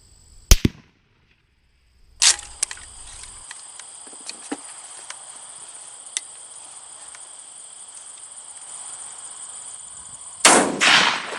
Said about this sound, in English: We'll shoot 3, and we'll see how we make out.